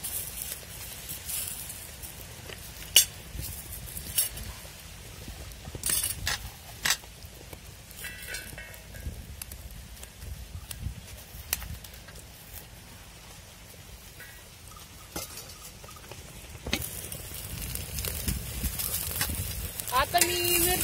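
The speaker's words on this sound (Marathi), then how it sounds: "आता मी मिरच्या आणि कांदा टाकलेला आहे तव्यावरती, आणि चांगलं परतून घ्यायचं आहे।" Onions and green chillies roasting on a hot griddle in a rural Maharashtrian kitchen, giving a soft steady sizzle with scattered taps and scrapes as they are turned, while someone talks over it.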